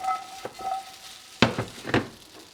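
Korean rice cakes (tteok) tossed in a sizzling pan, a quiet fry broken by a few distinct scrapes and knocks of stirring, with a faint tonal beep early on.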